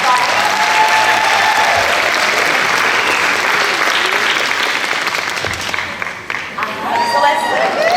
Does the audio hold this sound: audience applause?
yes